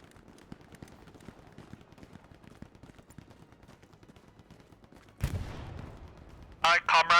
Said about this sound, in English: Alright, comrades, strafing run, hitting the front line now